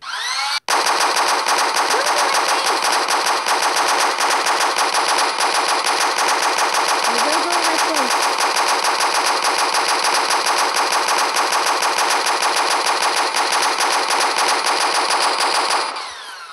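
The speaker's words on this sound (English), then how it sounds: "No, we're going to do the minigun explosive." An explosive minigun in a Minecraft PE guns mod fires one unbroken, dense stream of rapid shots for about fifteen seconds, loud and close, then cuts off abruptly.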